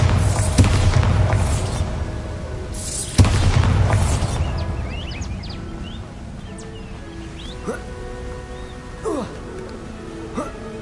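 Two deep, booming explosions from the Bombarda spell in the video game Hogwarts Legacy, each followed by a rumbling decay, with softer game effects and chirps afterward.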